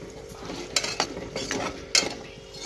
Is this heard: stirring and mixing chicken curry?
yes